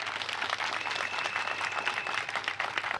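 Dense, sustained applause from an audience at an official ambulance handover ceremony in Côte d'Ivoire, many hands clapping steadily for about three seconds before tapering at the end.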